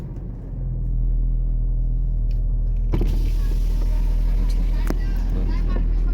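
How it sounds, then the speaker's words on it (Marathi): A Porsche started up from inside the car: a low engine rumble swells within the first second and settles into a steady idle, with a brief sharp click or clunk near the middle and faint cabin noises over it. "तर मी आता चालू करतो गाडी,"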